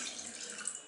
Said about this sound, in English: add a cup or a bowl of Listerine